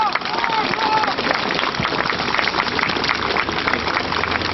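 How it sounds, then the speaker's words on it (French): An outdoor crowd at a Stalingrad victory commemoration applauds continuously, a dense steady wash of clapping heard from within the audience. "Je vous remercie donc de l'applaudir également."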